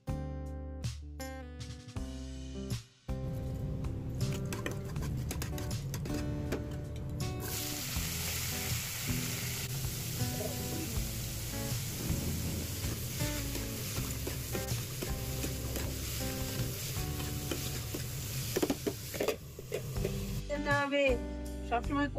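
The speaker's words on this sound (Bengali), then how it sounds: "এটা একটু কালো জিরে ফোড়ন দিয়ে ভাজা করে" Chopped kohlrabi and potato sizzle in oil after a nigella seed tempering, a steady frying hiss rising from about the middle and holding to the end, mixed with other household sounds and some voices.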